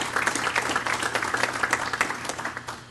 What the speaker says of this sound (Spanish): Para él también el aplauso de todos ustedes